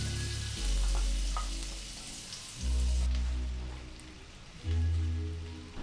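Butter dropped into a hot pan just after browned beef is taken out, crackling and sizzling steadily with three louder bursts of frying as pieces hit the fat, close and alone.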